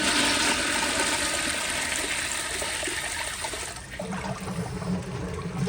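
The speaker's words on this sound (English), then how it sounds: "I'll go ahead and flush it and see what it does." A 2000 Eljer Signature toilet with its siphon jet plugged flushes with a loud rushing surge of water that tapers into a gurgling trickle as the bowl refills, with no voices.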